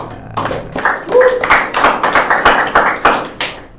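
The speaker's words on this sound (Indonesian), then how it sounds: "Wih, tepuk tangan dulu lah." A small group claps by hand in a podcast studio: a short, uneven burst of sharp claps that starts quickly and fades out after a few seconds, close and fairly loud, with little talk.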